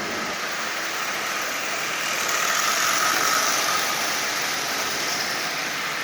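A derusted old Marx 999 toy locomotive runs at half power pulling 14 cars, giving a steady, continuous whirring motor hum with a rolling rattle that swells slightly midway.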